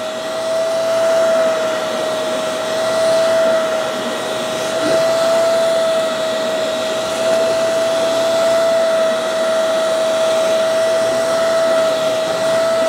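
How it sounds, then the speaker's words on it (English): A Hoover Clean Slate carpet spot cleaner runs with its suction working on a sprayed carpet stain, giving a steady, loud motor roar with a constant high whine and no pauses. "The Hoover's got a little more suction than the other two."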